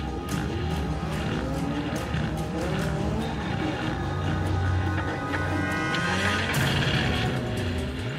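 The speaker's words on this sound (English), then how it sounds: "I notice a strange noise coming from my engine and it doesn't sound too good at all." A Formula Vee race car on a circuit in a racing game, its engine whining with shifting, wavering pitch sweeps and a rough, unsteady tone, continuous and fairly close, with other cars droning around it.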